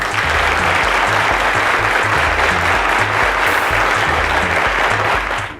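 Sustained, dense applause from an audience at a televised quiz show finale, honoring contestants; steady clapping fills the whole stretch at full level before tapering slightly at the end.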